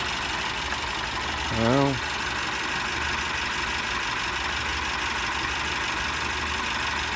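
A 2022 Mercedes Sprinter with an M274 engine idles with a cylinder misfire and low compression in cylinder three. The engine gives a steady, rough, mid-level drone, and someone speaks a single word partway through.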